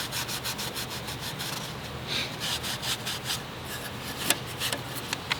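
A Volkswagen cylinder head surface is scuffed clean with quick back-and-forth abrasive strokes, producing a close, continuous rasping scrape with a steady rhythm and a few sharper scratches.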